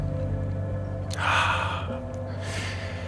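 A deep, audible exhale during a breathwork session, a single long rush of breath swelling and fading over a soft background hum, followed by a lighter breath.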